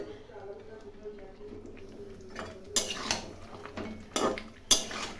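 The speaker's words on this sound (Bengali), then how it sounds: "এখন ভালো করে কষাবো।" Mutton curry is stirred and sautéed (kosha) in a pot, with a utensil scraping and clanking against the metal in a few sharp knocks among soft stirring, fairly quiet, with faint talk in the background.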